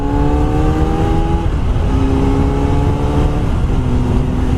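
A new motorcycle's engine runs steadily at low speed, a loud, close, continuous drone whose pitch dips and rises slightly as it settles, with no voices over it.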